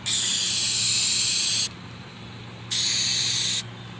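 A rattle-can spray paints a coat over a rust hole repair, with two close hissing bursts, a long one and then a shorter one, separated by a brief pause.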